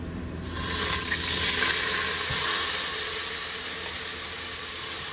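Tomatoes go into thick-cut garlic that has browned in a pan, and a steady, close sizzle swells and then holds evenly with no talking.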